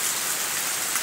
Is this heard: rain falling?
yes